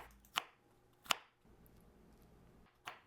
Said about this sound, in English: And also chop one green bell pepper.